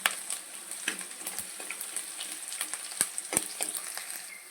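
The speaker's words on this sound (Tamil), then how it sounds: "நல்லா வதக்கிக்கலாம்." Onions and fenugreek seeds sautéing in oil for an okra tamarind curry crackle and pop in a close, sharp sizzle, with a few loud spatters and light stirring, and no speech.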